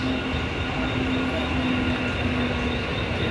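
A fast train rushes past close by, a steady loud roar of rail traffic with a faint tonal whine running through it and no pauses.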